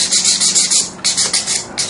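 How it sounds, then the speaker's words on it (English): A handmade piece is sanded to shape at its edges, producing loud, close, rhythmic rasping strokes, about eight quick back-and-forth passes with a brief pause midway and no talking. "sand it to shape, sand the edges"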